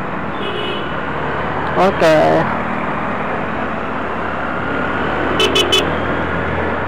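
Steady roadway noise in a traffic jam with car engines idling, a brief horn toot and a few short beeps, heard under a voice speaking.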